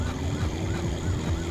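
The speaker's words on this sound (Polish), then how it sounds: "Ta policja cały czas tutaj wyje" A police car siren in My Summer Car wails in a steady rising-and-falling pattern over continuous vehicle engine noise, moderately loud and alone.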